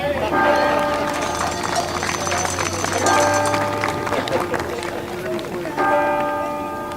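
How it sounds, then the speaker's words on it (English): Church bells ring in repeated bright, sustained peals with overlapping strikes, heard over a crowd murmur and footsteps at an outdoor event while a voice talks over them. "the sound of the church bells."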